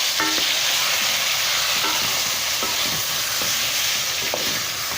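Chicken karahi sizzling loudly in a pan while being stirred as tomatoes are added, a steady dense fry with scattered scraping stirs throughout.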